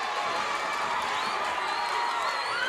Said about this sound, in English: Crowd cheering him.